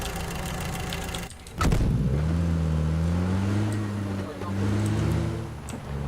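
A car engine idles and then revs as a vehicle starts moving in the PUBG battle royale game, a steady mid-pitched hum that rises and shifts, with players talking over it.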